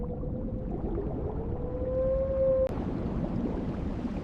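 Blue whale call in the open ocean, a loud sustained tonal moan holding steady for about two and a half seconds before cutting off abruptly, with a low rumbling water background continuing after.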